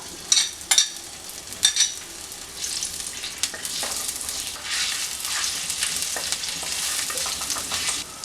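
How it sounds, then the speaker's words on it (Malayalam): Ginger and garlic frying in hot oil in a pan: a few loud clattering stirs at the start, then a continuous bright sizzle with light scraping, close up, with no voices. "അതിനകത്തേക്ക് നമ്മളിവിടെ എടുത്തു വെച്ചിരിക്കുന്ന ഇഞ്ചിയും വെളുത്തുള്ളിയിട്ടൊന്ന് ഇട്ടൊന്ന് മൂപ്പിച്ചെടുക്കാം"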